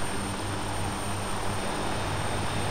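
Steady, loud engine drone of an aircraft coming in to land in a military video game, a constant roaring hum with no breaks, close and alone.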